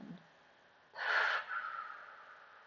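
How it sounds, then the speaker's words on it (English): A single breath blown out through the mouth during a Pilates breathing exercise: a short, soft whooshing exhale that trails off quietly, heard alone in a hushed room. "I want you to blow all that air out through the mouth"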